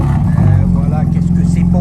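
A car with an Accra exhaust fires up and settles into a loud, close, throaty idle, with a voice talking over it.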